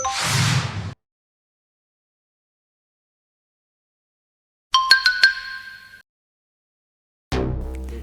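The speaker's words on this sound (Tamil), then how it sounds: "என்ன இந்த போன் வேற ரிங் அடிக்குது?" A mobile phone sounds in short bursts, first a whooshing burst, then a ringing tone with clear steady pitched notes, then another tone after a pause, each loud and close with silence between.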